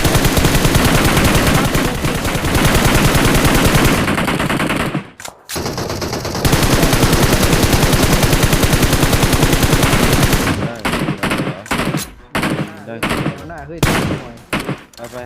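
Gunfire in PUBG Mobile, long loud bursts of rapid automatic fire that cut off abruptly, resume, then break into scattered short shots near the end, with players talking during the firing.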